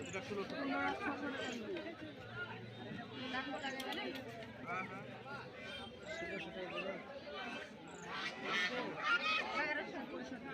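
Young geese for sale at a Bangladeshi market honk and chatter in a noisy cluster, under steady talk from nearby people.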